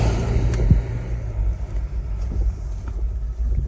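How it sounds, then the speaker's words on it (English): Cars pass on a road near the Larapinta Trail, a low rolling rumble at a distance mixed with wind buffeting, steady and continuous. "Cars."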